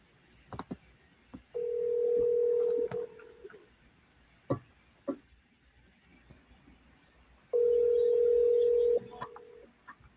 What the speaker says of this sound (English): I'm just going to give Leo a call so he can hear me at least to know when I'm done.